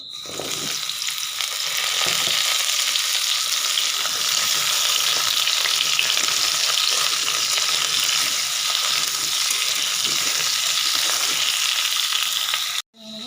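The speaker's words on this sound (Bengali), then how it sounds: "আলুগুলো ভেজে নেব।" Potatoes frying in a pan, a loud dense sizzle holding steady close up, with faint stirring underneath, cutting off abruptly near the end.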